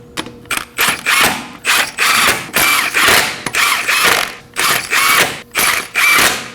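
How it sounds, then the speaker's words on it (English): Ratchet snugging up lug nuts on a Nissan Armada wheel, about a dozen rapid clicking runs with short pauses between strokes, close and loud, no talking. "Install the lug nuts by hand. And now go ahead and snug them up in a star-shaped pattern."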